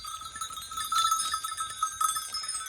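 A small metal bell on a sheep's neck rings repeatedly and irregularly, jangling with bright tinny tones as if shaken by movement, faint and close with no voices.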